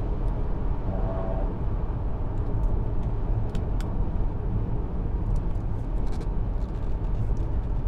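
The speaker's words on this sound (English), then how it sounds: "There's just a bit of wind noise" Steady broadband wind and road roar fills the cabin of a 2020 Audi Q5 45 TFSI Quattro cruising at highway speed, a constant rushing hum with a few faint higher ticks, no talking.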